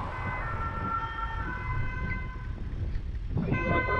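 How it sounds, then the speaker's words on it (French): An approaching ambulance siren sounds its repeating two-tone call over street noise, holding steady then briefly dipping before coming back stronger near the end, fairly close in an urban setting. "Il y a une ambulance qui arrive."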